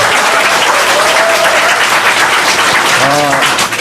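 A live talk-show audience claps loudly in a thick, continuous burst. A voice briefly cuts in over the clapping near the end.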